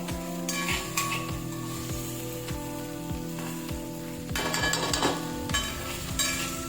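Momo filling being stirred into sauces in a pan over a medium gas flame, with a steady sizzle and scraping stir strokes that swell louder in the later part.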